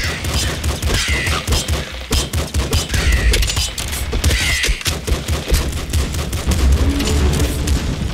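Video game gunfire from Enter the Gungeon: a dense, loud, continuous barrage of rapid shots and bursts layered over game sound, with no voices over it.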